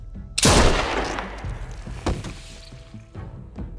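A sharp, loud gunshot in The Walking Dead: Season Three game bursts out and rings into a long decaying tail, followed by fainter thuds and a smaller crack near the end.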